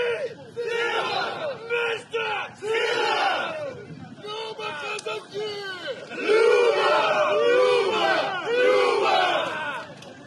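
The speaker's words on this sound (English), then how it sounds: "you're witnessing a crowd of Chechens" A crowd of Chechens shouting in unison outdoors, loud rhythmic chanting and cries rising and falling in repeated bursts across the whole stretch.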